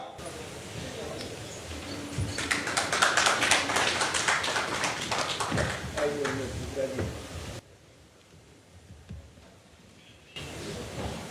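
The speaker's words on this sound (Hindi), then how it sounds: "जोरदार तालियों के साथ स्वागत कीजिए बिहार की बात के इस मंच पर श्री उमेश कुशवाहा" An audience applauds to welcome Umesh Kushwaha, state president of Janata Dal United, onto the stage of a Bihar political interview event. The clapping is dense and sustained and peaks in the middle, then the sound drops away sharply and picks up again faintly.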